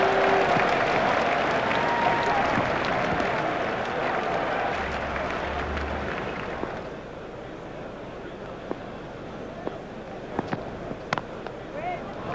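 A cricket crowd at a T20 World Cup match between West Indies and Zimbabwe applauds a boundary shot, a loud dense burst of clapping and cheering that gradually fades to a low murmur with scattered claps.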